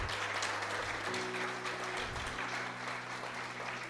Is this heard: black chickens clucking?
no